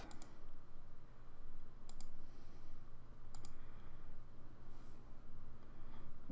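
Computer mouse clicks in an Outlook 2016 session, a few faint, crisp clicks spaced apart over a steady background hiss.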